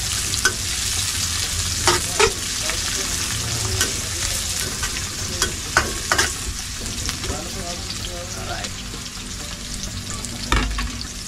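Chili and onion sizzle steadily in a hot pan while being stirred, with scattered scraping clicks from the utensil over the continuous frying hiss.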